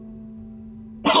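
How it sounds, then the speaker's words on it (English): A character in The Wolf Among Us game gives a sudden short, harsh cough right at the end, loud and close, after a quiet stretch with only a low steady hum. "I just coughed up some bullets."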